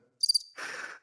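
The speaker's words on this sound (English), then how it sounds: "Crickets" Cricket chirps used as a sound effect: a short, high trill of a few quick pulses, then a brief burst of a hissing chirring texture, clear and isolated against silence.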